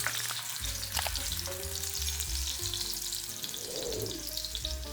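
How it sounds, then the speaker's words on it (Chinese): Ginger slices fry in a small amount of oil in a hot wok, giving a steady crackling sizzle with stirring scrapes, close and fairly quiet, with no talking. "先把锅烧热，再下一点点的油，然后呢就下姜片把它炒香。"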